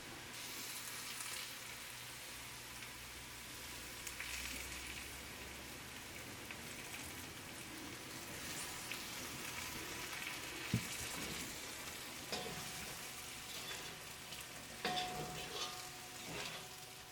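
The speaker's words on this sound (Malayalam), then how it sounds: "അപ്പോൾ ചിക്കൻ വറുത്തെടുത്ത് റെഡി ആയിട്ടുണ്ട്." Chicken pieces deep-frying in hot oil, a dense, continuous close sizzle like heavy rain, with a few clinks and scrapes from stirring toward the end.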